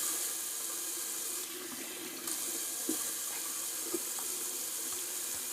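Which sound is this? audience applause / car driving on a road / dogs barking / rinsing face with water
rinsing face with water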